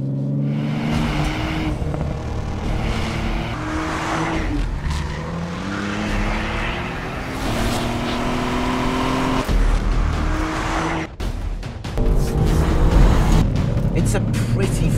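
A 2018 Ford Fiesta driven hard along a twisting mountain road, its engine note rising and falling steadily through the gears with tire squeal on the bends, loud and continuous throughout.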